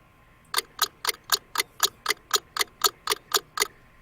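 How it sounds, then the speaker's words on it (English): Clock ticking sound effect in the sandbox game Garry's Mod, twelve crisp, evenly spaced clicks about a quarter second apart, loud and close against a quiet background. "Do the clock, do the clock."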